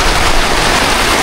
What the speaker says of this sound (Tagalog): Ayan, malakas yung ulan.